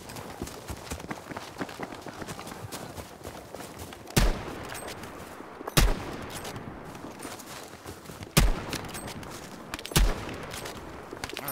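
Battlefield V gameplay with dense, continuous rattling gunfire and scattered sharp, louder shot bursts at intervals, mixed with clattering footstep-like noise and no clear talk.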